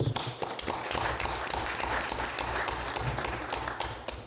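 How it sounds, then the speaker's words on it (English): An audience at a city council meeting applauds, a dense burst of many hands clapping at close range that carries steadily through and tapers slightly at the end. "another round of applause"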